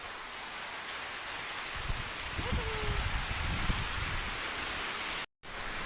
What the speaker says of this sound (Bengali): পড়তেছে তো বৃষ্টি।